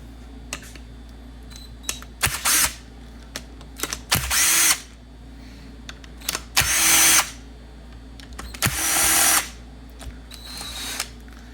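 Several bursts from a power drill driving off four bolts on the IAC cover of a Holley Super Sniper throttle body, each whir lasting about a second with short pauses between, close and loud, with no talking.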